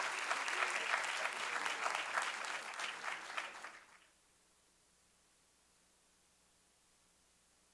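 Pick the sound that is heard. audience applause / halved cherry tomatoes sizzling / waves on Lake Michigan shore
audience applause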